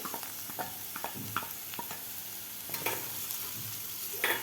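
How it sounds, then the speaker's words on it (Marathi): Ground masala paste of coconut, garlic and ginger being sautéed with hing and turmeric for sprouted masoor usal, a steady close sizzle with repeated spoon scrapes and taps against the pan. "आपल्याला हे वाटण परतून घ्यायचं आहे"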